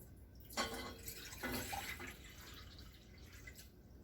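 Two cups of water poured from a measuring cup into a cooking pot for Creole black beans and brown rice, a short splashing pour with soft trickles and drips in a quiet kitchen.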